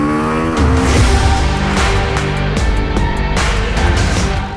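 A 2024 Husqvarna Svartpilen 401 motorcycle engine revs loud and close as it accelerates hard, climbing through the gears with clear pitch drops at each shift. It runs alone without talk.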